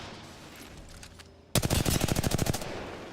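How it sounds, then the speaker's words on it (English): Rapid automatic gunfire in Apex Legends during an ALGS Year 4 Split 2 grand finals match, a loud burst of roughly a dozen close shots erupting suddenly after quiet ambient game noise. "There's shots on the right."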